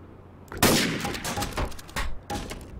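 Video game gunfire, with several loud close shots and bursts in quick succession and short pauses between them, and no talking.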